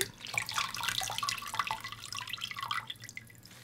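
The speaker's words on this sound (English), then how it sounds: "I'm going to start washing this off" Water trickles and drips at a sink while a wash rag rinses a Lush Brazened Honey fresh face mask off a face, a steady close splashing patter with no talking.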